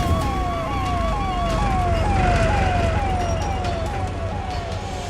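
An ambulance siren wails in quick, repeating downward sweeps over a rumbling engine, loud and fairly close the whole time.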